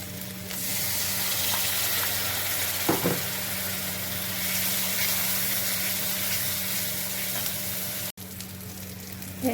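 A splash of water hits ginger, garlic, onion, pepper, sugar, salt, turmeric and cumin in a hot pan, setting off a steady, loud sizzle that runs unbroken, with a brief clatter near the start.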